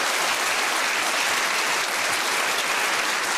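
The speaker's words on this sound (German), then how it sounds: "schaut die mal an und gebt ihnen einen schönen Applaus" A hall audience applauds at a rural women's cooking competition finale, a dense, even roar of many hands clapping steadily throughout, loud and close, with no break.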